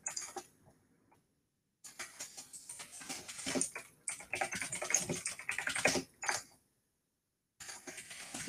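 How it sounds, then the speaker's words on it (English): A loud computer keyboard clatters with dense, rapid typing in several bursts, separated by brief silent pauses. The clicking is close and there is no speech. "My keyboard's a bit loud, so if you guys hear that, that's just me typing."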